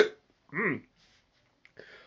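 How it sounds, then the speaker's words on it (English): A single sharp hiccup from a person at a live tea tasting, close and abrupt, followed by quiet and a faint short vocal sound. "This is not the time to get hiccups."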